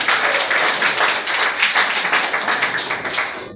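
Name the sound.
assembly applauding the urban authority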